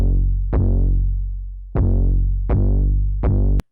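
Heavily processed bass line shaped by a wave shaper, EQ and limiter, sampled from a trash bag: four loud, distorted bass notes with sharp attacks and long decays, playing alone.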